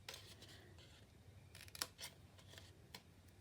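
Scissors snip paper while making an advent calendar, several short quiet cuts in an irregular rhythm close by, with no talking.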